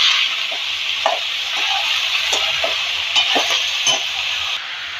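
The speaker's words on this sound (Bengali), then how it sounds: "সবগুলো সবজি একসাথে দিই এবার আবারও ভালোভাবে নেড়ে করে দিচ্ছি" Mixed vegetables, potatoes among them, sizzle steadily in a hot pan while a spatula stirs them, giving soft scraping strokes over a continuous close frying hiss, with no talking.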